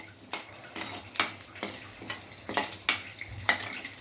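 Bay leaf, cinnamon, cloves and biryani masala fry in hot oil in a pan, giving a steady close sizzle broken by repeated sharp scrapes and clinks of stirring.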